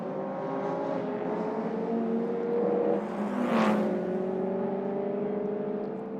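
A historic racing car, a 9S, turning into Bridgestone corner at a race circuit festival, its engine droning steadily with a rising whine as it passes close, loud and continuous with no talk.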